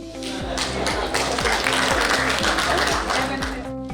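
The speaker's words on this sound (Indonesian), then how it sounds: "kita ucapkan terima kasih dan sekali lagi tepuk tangannya" Audience applause at a gallery event marking a professor's seventieth birthday, steady clapping from a crowd heard over a pulsing electronic music track, fairly loud and continuous.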